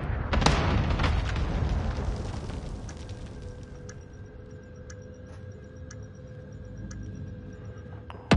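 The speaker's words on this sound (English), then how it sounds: "Enemy cluster strike incoming" Explosions from an enemy cluster strike in Call of Duty Warzone Resurgence: a loud blast up front trails off into rumbling, followed by sharp repeated ticking pings under a low, steady background.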